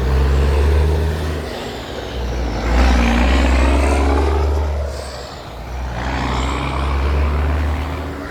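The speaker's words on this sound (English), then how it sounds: "it was some cement trucks and they're loud" Loud cement trucks pass close by, a heavy low engine rumble with rising and falling swells as each vehicle goes past.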